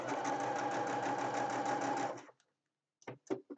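A sewing machine stitches a hankie table runner in one steady, close, rhythmic run lasting about two seconds, then stops, followed by a few faint clicks and handling sounds.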